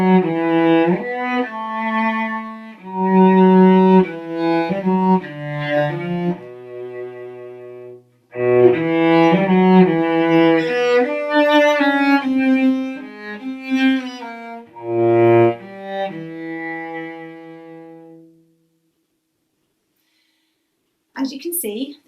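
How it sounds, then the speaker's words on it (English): A solo cello plays a slow melody of sustained, singing bowed notes, close and full, with brief pauses between phrases before falling silent near the end. "Hello, I play the cello and it sounds like this."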